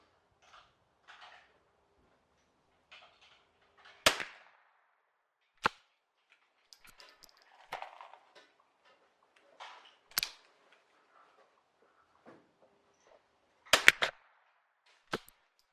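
Commonwealth training rifle fired downrange at an outdoor range, five sharp cracks spaced several seconds apart with faint bolt and handling noises in between. No one speaks.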